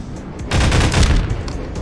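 A turret fires in Half-Life VR, a dense burst of rapid automatic gunfire that starts abruptly, stays loud and close for about a second, then tapers into scattered shots.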